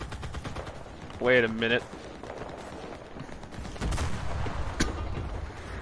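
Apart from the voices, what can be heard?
gunfire in the video game Enlisted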